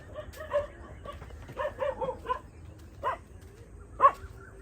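Dogs bark in a dark village at night, scattered short barks and yips at a moderate distance over faint background noise, with a sharper louder bark near the end.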